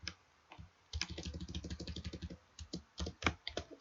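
Rapid typing on a computer keyboard, dense runs of close, crisp key clicks with short pauses between bursts, heard alone.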